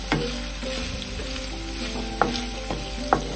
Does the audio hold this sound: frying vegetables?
yes